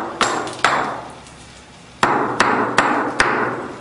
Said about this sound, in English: we're trying to create like little wormholes using the different points of the slag hammer